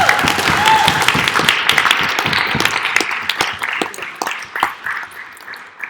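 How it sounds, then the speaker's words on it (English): An audience at an evening debate applauds its guests with loud, dense clapping that gradually thins out, leaving scattered individual claps at the end. "Could we have a round of applause for our guests?"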